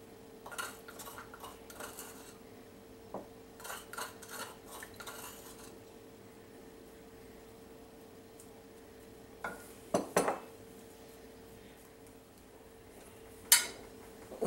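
Garlic paste is mixed into shredded cabbage in a bowl, with scattered soft utensil scrapes and clinks, a few sharper knocks near the end, fairly quiet with pauses between strokes.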